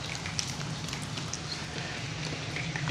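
Heavy rain pours down steadily in a continuous dense hiss and patter, fairly faint and even throughout with no voices.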